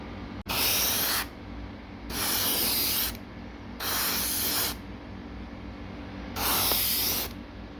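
Airbrush spraying Alclad chrome paint onto an RC truck bumper, four separate bursts of close, bright hissing, each lasting about a second with short quiet gaps between.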